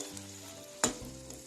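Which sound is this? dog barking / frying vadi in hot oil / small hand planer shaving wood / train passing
frying vadi in hot oil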